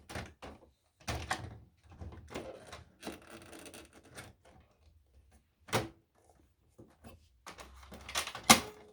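A Brother MFC-L6700 laser printer has its cover opened and shut, giving a run of separate plastic clunks, thumps and rubbing sounds close by, with quiet pauses between them and one sharp knock near the end.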